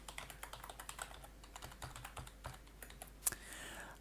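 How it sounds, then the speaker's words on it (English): A username being typed on a computer keyboard: steady, quiet key clicks in an irregular rhythm, close up, with one sharper click near the end, no voices. "So I will type in my username"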